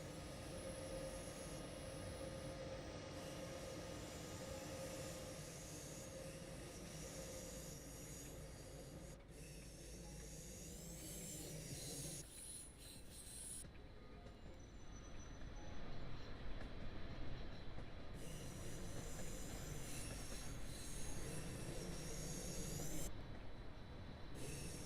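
Freight train in Train Sim World 6 running along the rails on the gas cargo line, a steady rolling rumble with wheel and rail noise throughout, growing louder after the midpoint.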